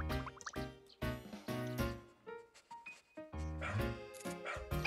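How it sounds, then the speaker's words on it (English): Liquid dripping sound effect of a virtual dog peeing in Nintendogs + Cats, mixed with the game's cartoonish barks and bright musical tones, all close and fairly loud. "but oh, Tinkle, taking a pee."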